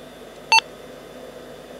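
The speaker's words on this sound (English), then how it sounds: "See if it beeps." A single short electronic computer POST beep from a Socket 4 PC, clear and fairly loud, over a steady low hum of machinery.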